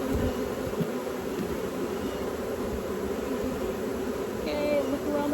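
Honeybees shaken loose from a hive frame while a beekeeper hunts for the queen, making a thick, unbroken buzz that stays loud and close, with a brief higher chirp near the end.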